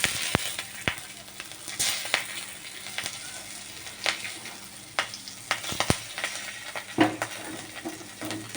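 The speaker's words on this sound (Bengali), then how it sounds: "এই তেলের মধ্যেই আমি দেব কালো জিরে, আর কাঁচা লঙ্কা ফোড়ন।" Nigella seeds and green chillies sputter in hot oil for a Bengali tempering: a steady close sizzle broken by sharp crackling pops scattered throughout, with no voices.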